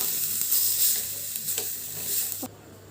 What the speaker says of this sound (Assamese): এতিয়া মই আলুখিনি ভালকৈ লৰাই দিম